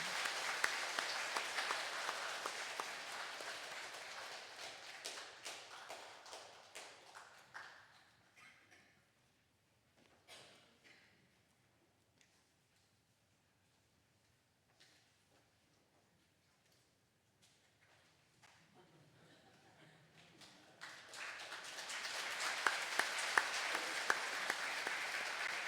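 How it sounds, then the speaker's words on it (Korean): Catholic parish congregation applauding during a Mass for the Solemnity of Saints Peter and Paul, loud clapping that tapers to scattered claps and near silence, then swells again into full applause. "박수로 우리 자매님들 격려해 주시기 바랍니다."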